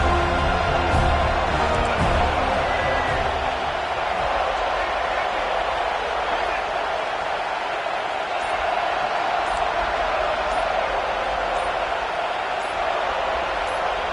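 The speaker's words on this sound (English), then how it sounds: "with this place rocking, the crowd forces a false start" Steady roar of a stadium crowd at a UCLA football game, a dense continuous wash of cheering and noise holding at a constant loud level throughout.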